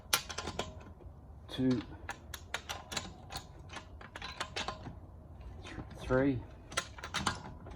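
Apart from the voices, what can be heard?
wrench tightening the wheel nuts on a Polestar 2 spare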